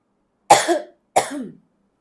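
A woman coughs twice in quick succession, close and fairly loud, each a sharp burst trailing into a rough, throaty tail, with a short silence between them.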